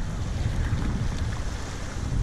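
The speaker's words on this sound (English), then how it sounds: "But these are pretty high waves." Wind and high waves around a kayak at Port Canaveral, a steady rumbling wash of water with wind buffeting the microphone, close and continuous.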